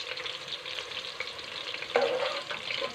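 Okra sizzles and bubbles steadily in hot oil as the pan is stirred, a close, continuous crackle with a brief louder burst partway through.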